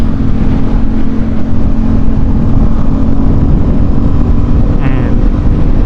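An Aprilia RSV4 Factory V4 sport motorcycle runs with a loud, steady engine drone throughout, sounding close, with a slight rising rev near the end.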